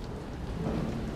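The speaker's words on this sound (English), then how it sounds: "Now we're inside. Escaping the rain." Steady rain pours outside with a low rumble of thunder in The Evil Within horror video game, a continuous dense hiss that stays at an even loudness throughout, with no voices.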